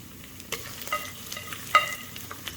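Ginger and garlic sauté in a pan for a fish curry, giving soft sizzling with a few distinct clinks and scrapes of a spatula stirring, fairly quiet and brief.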